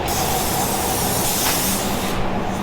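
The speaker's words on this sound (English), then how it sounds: "So we can hold that, spray our base coat" A steady, continuous hiss of spray from a paint gun nozzle applying base coat on a Peterbilt 389 truck runs nonstop, close and loud, with no voices.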